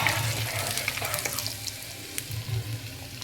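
Shahi jeera (caraway cumin seeds) fry in hot oil for biryani, giving a steady close sizzle with a faint watery hiss and some light clinks, all without speech.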